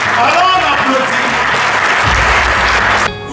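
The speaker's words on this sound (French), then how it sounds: "Alors on applaudit." Audience at an honours ceremony applauding loudly, dense continuous clapping from a crowd with voices mixed in, cutting off abruptly just before the end.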